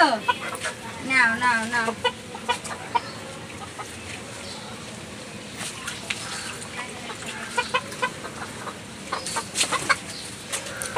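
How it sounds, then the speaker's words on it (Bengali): Hens kept at home cluck and chatter while being fed, with short bursts of clucking coming and going close by and a person speaking briefly among them. "এগুলো কিন্তু আমার খুবই শখের মুরগি"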